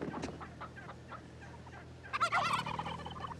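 Wild turkey gobbling outdoors: a loud rattling gobble bursts out after a few faint calls, standing alone with no talk.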